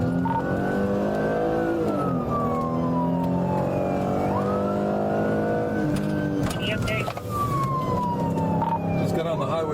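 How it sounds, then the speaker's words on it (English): A stolen car fleeing along a highway with police in pursuit: a wailing siren rises and falls over a loud engine, close and continuous, with a radio voice cutting in now and then. "The stolen vehicle continued eastbound, heading toward the interstate in the Pennsylvania direction"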